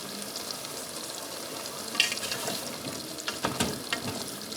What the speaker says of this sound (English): throw my cubed pumpkins in. Give it a quick stir.